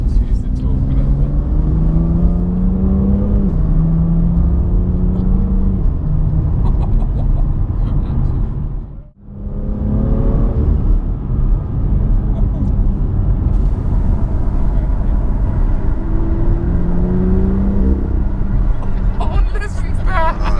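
BMW M2 engine revving under acceleration in a rumbling climb through the gears, with one brief dropout at a gear change, heard from inside the car. A voice talks over parts of it.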